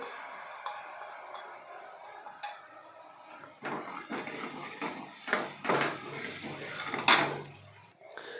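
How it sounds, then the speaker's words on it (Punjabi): Soaked spices tipped into a pan of roasted ginger-garlic paste for a dhaba-style black chana curry, heard as metal clanks and scraping of utensil on pan, sparse at first, then denser and louder sizzling and stirring. "ਫਿਰ ਆਪਾਂ ਜਿਹੜੇ ਆਪਾਂ ਨੇ ਮਸਾਲੇ ਭਿਓ ਕੇ ਰੱਖੇ ਤੇ ਉਹ ਪਾ ਦਾਂਗੇ"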